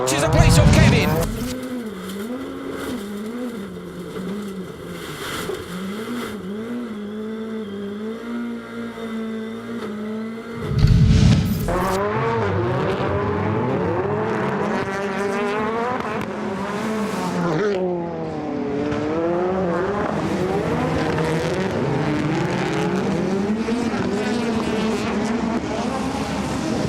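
World rallycross cars race close by, engines revving and shifting pitch as they accelerate and brake, with loud bursts as they pass and a commentator talking over the racing.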